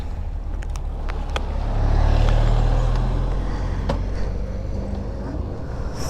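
A KTM RC 125 sport motorcycle is being ridden, its engine holding a steady low drone that swells in the middle amid road and wind noise, with a few clicks and no talk.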